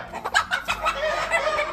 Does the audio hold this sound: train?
no